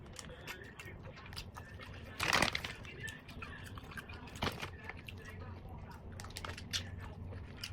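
Crunching and munching close to the mic on a crunchy Chinese mala snack, with a louder bite partway through over faint background noise.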